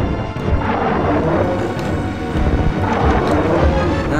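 Boss attack in Super Metroid, with balls fired at the player: a loud, continuous barrage of crashing, booming game effects filling the clip, with no pauses.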